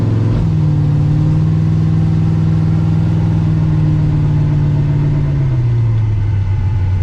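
A car with a fresh Powerglide transmission cruises steadily, its engine droning at a constant low hum from inside the cabin before the pitch eases down near the end.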